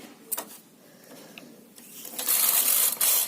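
Knitting machine working a sweater design, its carriage sliding across the needle bed with a mechanical rasp that swells loud near the end, with soft clicks along the way and no talk.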